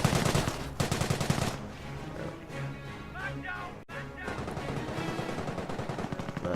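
A Bren gun fires in the Company of Heroes video game, loud bursts of rapid shots at the start, then quieter battle noise with faint distant gunfire under ongoing game sounds.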